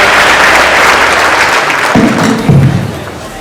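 An audience at a keynote claps loudly and continuously, close and dense, with a couple of thumps and a brief voice as the applause starts to fade.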